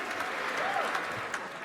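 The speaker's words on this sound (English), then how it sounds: "Even women were clapping." A comedy show audience applauds, dense clapping from a crowd that carries steadily through the short stretch with a few brighter claps on top.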